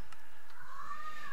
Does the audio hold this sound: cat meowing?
yes